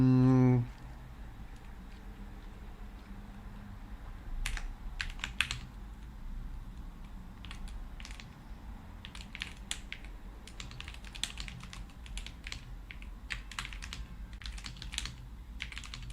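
Fast, irregular keystrokes on a computer keyboard come in bursts after a brief opening sound, moderately close over a steady low hum of running machines.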